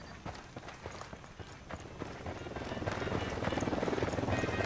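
A helicopter in the video game Ghost Recon thumps with a steady rotor beat that swells louder and closer over a few seconds, with no talking.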